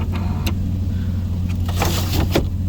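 The power window motor in a Lincoln Mark V, whose worn cables no longer grip the gear, runs with a close whirring hum inside the car, punctuated by a few short clicks and knocks.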